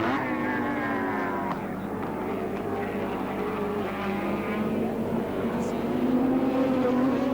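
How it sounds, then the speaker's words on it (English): Allan Moffat's small Mazda touring car roars down the main straight at Oran Park during a 1983 touring car championship race, a steady high engine whine rising in pitch through the gears, with a commentator talking over it. "Allan Moffat now slams down the main straight, picking up 5th gear in the little Mazda"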